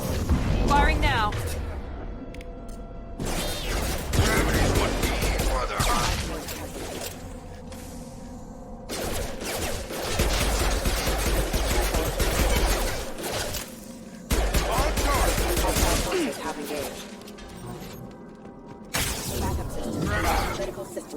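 Heavy weapons fire in the video game Mass Effect 2, with loud, dense bursts of booming and crackling shots that come in long stretches separated by brief lulls.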